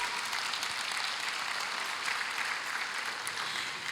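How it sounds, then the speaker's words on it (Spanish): A church congregation applauds, a dense, steady wash of clapping from many hands that fills the room without pause. "De un fuerte aplauso al Señor"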